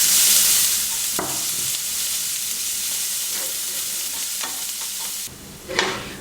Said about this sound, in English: Add a chopped onion and saute until light golden and translucent